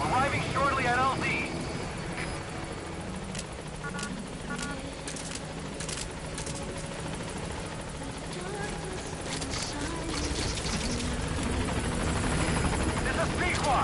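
In the Metal Gear Solid V video game, the Pequod helicopter arrives at a landing zone with a sustained rotor drone and engine rumble, under radio voices and game sounds.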